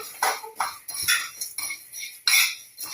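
Fenugreek seeds stirred in a pan while roasting for sambar powder: a spoon scrapes and clinks against the metal in quick, uneven strokes, close and fairly loud, with no talk.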